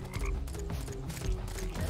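Frogs croaking during acid rain in the game Terraria Calamity, a busy run of repeated throaty croaks layered over dense game noise and rumble, loud and continuous with no speech.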